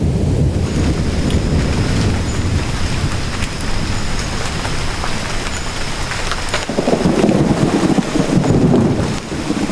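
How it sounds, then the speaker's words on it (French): Heavy rain pours down in a tropical forest during a thunderstorm, a loud dense hiss with low thunder rumbling underneath and a deeper surge of rumble near the end, and nobody speaking. "L'orage tropical est près d'exploser."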